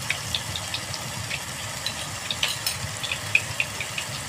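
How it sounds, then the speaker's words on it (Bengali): Spices and shrimp frying in hot mustard oil with a little tomato ketchup, for a cabbage and shrimp curry: a low, even sizzle with scattered small pops and spatters, close up and with no voices. "দিয়ে একটুখানি মশলাটাকে কষিয়ে নেব চিংড়ি মাছের সাথে।"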